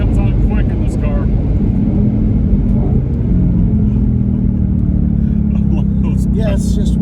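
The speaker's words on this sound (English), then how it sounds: "Speed comes on quick in this car." A 2020 Ford Mustang Shelby GT500 with a dual-clutch transmission pulls hard in track mode, its steady low engine rumble filling the cabin from start to finish as the car gathers speed.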